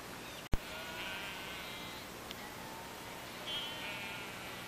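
Sheep bleat faintly in an outdoor setting, with a couple of thin, wavering calls a few seconds apart and a sharp knock near the start.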